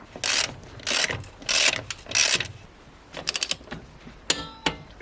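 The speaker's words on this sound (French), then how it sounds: "je vérifie ma tension de chaîne et je la vérifie bien sûr bien partout en faisant tourner ma roue" Rear wheel of a Honda MSX 125 turned by hand during a chain-tension check, giving repeated near rubbing, whirring bursts followed by a quicker series of clicking, ratchet-like ticks, with no talking.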